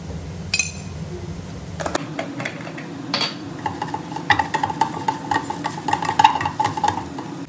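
A spoon stirs and mixes jackfruit and fish curry masala in a pan, making steady, rhythmic close-up clinks and scrapes against the metal with a faint background hiss.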